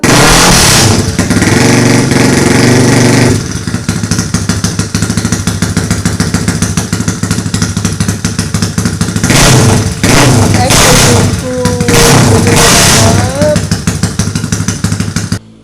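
Motorcycle fitted with a loud aftermarket black exhaust pipe roars very loudly and close, holding a steady throttle before sharper revs and a few rising blips near the end.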